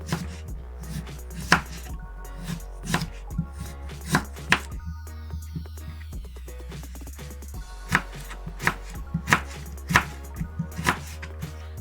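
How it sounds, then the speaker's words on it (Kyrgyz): A knife chops carrots on a board while Kyrgyz plov is prepared, giving steady, crisp close-up strikes in uneven clusters over about twelve seconds with no voices. "Сабизди да турап алабыз."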